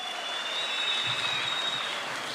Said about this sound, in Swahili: Wapi makofi ya Rais?